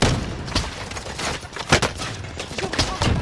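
Enemy gunfire in the video game Call of Duty Modern Warfare, a rapid irregular string of sharp cracks and bursts at moderate loudness over a busy background of game noise.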